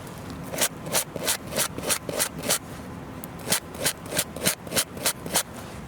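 A brush scrubs old thread lock off brake caliper bolts from a Volvo XC's rear brakes, making about a dozen quick rhythmic rasping strokes close to the microphone, with no voices.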